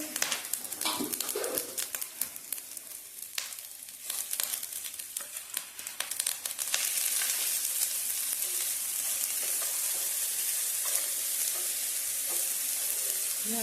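Grated coconut and jaggery roasting together in a pan for fried modak filling, with irregular scraping stirs at first, then a continuous loud sizzle and hiss.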